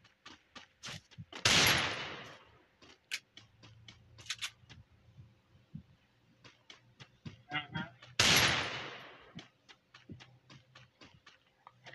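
Gunfire in a video game: sharp shots crack in rapid irregular clicks, with two loud heavy bursts that fade out, over faint background hum.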